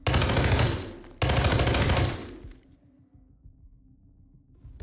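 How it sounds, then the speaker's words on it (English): Silenced assault rifle fire in the Hitman 3 video game comes as two dense bursts of rapid shots, about three seconds in all. A brief gap separates the bursts, and quiet low background ambience follows. "We have a silenced assault rifle."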